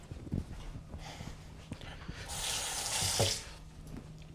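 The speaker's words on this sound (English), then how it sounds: "Just a little bit, just a little splash of water" Water splashing from a running tap to wet a hand while baking bread, a brief rushing gush rising in the middle of soft background clatter, then cutting off.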